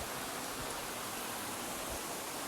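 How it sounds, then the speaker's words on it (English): A small decorative waterfall feature at an inn pours with a steady, even rush of falling water, soft and continuous with no other sounds. "There's a bit of a waterfall feature."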